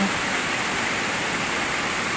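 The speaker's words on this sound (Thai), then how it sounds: "แต่วันนี้ ฝนตก" Steady, dense rain hiss falls continuously as a uniform wash of noise, with no distinct drops or breaks.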